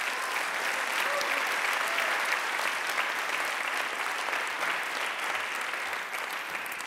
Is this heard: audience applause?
yes